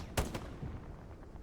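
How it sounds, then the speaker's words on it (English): Smoke artillery shells land in Hell Let Loose during a competitive Stalingrad match, two sharp close bursts in quick succession followed by fainter rumbling thuds in the background. "Smoke artillery in this area"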